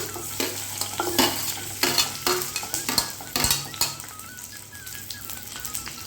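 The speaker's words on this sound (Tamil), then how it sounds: "வெங்காயம் நல்லா பொன்னிறமாகிற அளவுக்கு வதக்கி எடுத்துக்கலாம்" Small onions, finely chopped, sizzling and frying in a pan, with repeated scraping and clinking of a spoon stirring against metal, close and steady.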